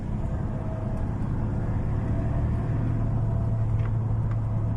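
A Toyota Vigo pickup, just repaired after shaking badly and hesitating, drives on a road test; its engine rumble fills the cabin steadily and loudly, with a low hum rising slightly toward the end and no talk.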